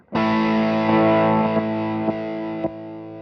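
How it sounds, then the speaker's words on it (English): Electric guitar through an Emerson Custom Pomeroy overdrive pedal with the gain turned up: one thick, saturated chord struck and left ringing with sustain, lightly re-picked a few times, loud and close. "Now to really hear it, let's turn the gain up."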